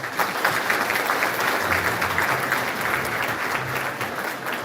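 An audience at a book concert in Busan's BEXCO hall gives steady, dense applause that continues evenly from start to finish.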